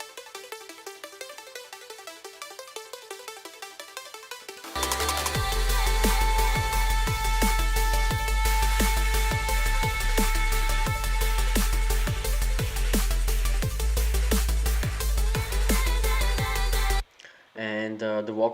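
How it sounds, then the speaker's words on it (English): Arpeggiated synth sample in a drum and bass track, a rippling melodic line alone at first, then joined by a heavy kick, bass and drums in a dense, loud, steady groove before dropping back to the synth alone near the end. "but basically I found some pretty cool ARP sample"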